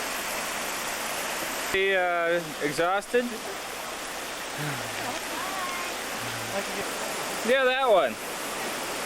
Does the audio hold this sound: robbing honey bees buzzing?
no